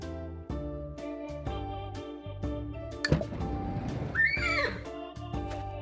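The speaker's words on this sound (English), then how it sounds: "Where is the horse?" Horse whinny from a children's animal game, a single rising-and-falling neigh near the middle, heard over steady bouncy background music with light clinking percussion.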